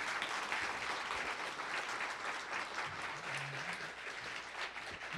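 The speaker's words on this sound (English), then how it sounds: "Big round of applause for everybody." An audience claps at the end of an evening speaker-series talk with Ruby founder Yukihiro Matsumoto, a continuous wash of many hands, fairly distant and even, with a brief low murmur partway through.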